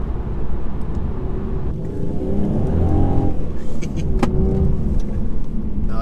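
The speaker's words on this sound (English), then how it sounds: "when you really rev it out, the gearbox does change gears pretty quickly." A 2019 Mercedes C300 engine revs hard as the automatic gearbox shifts quickly, rising and dropping engine tones under steady road and cabin noise, heard from inside the car with no talk.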